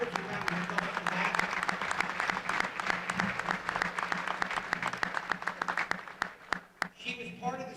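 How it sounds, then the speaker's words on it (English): An audience in a gym at a varsity girls basketball game applauds in a sustained dense round, with crowd voices mixed in and the clapping thinning into scattered claps near the end. "she deserves a round of applause for that."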